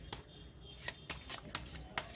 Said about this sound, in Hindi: जो मैं कार्ड को शफल कर लेती हूँ